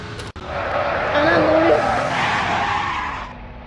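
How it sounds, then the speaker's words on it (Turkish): A racing car in the Roblox game Car Crushers 2 roars and skids with tires squealing, engine noise steady and loud throughout, with a brief click at the start. "Lan arabayı dinleyelim."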